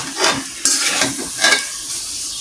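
A spoon scrapes and stirs hog plum pickle in a hot pan, giving three or four swishing strokes with soft sizzling in between, close and clear.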